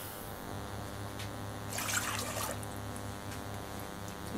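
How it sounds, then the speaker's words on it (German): Cold water runs from a kitchen tap to fill two cups for cooking rice, a soft steady trickle that swells into a louder splash for about a second before settling back. "Jetzt gehe ich zwei Tassen, dieselbe Tassengröße, kaltes Wasser holen."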